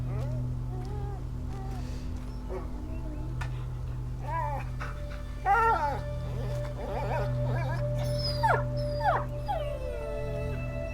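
In the video game A Plague Tale: Innocence, the dog Lion gives several rising, wavering howls and whimpers over a steady low hum, with the cries clustering toward the end and a voice heard faintly among them.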